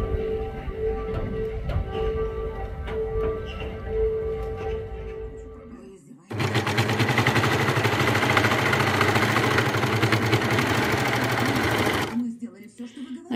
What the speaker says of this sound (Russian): Вот из таких вот небольших кусочков, ну где-то тут у меня было полотно побольше, шью штанишки